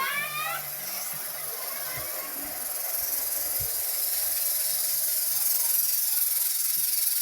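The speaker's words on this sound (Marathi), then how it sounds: "शिट्टी यायला लागली." A pressure cooker cooking pumpkin releases a steady, loud hiss of escaping steam that runs unbroken from start to finish, with a brief higher whistle-like tone at the very beginning.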